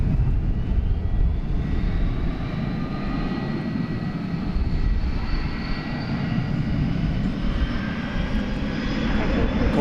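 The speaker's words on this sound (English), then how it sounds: "Okay, we got UPS flight 761." UPS cargo airliner, flight 761 bound for Ontario, California, at DFW International Airport, its engines a steady, loud, broadband roar that holds evenly throughout with no pause.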